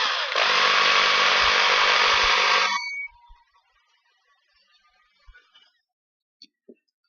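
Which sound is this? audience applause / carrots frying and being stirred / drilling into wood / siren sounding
drilling into wood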